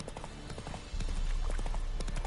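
Horse hooves clip-clop at a steady trot in The Witcher 3: Wild Hunt, rhythmic and close, growing louder partway through over a low game-world ambience.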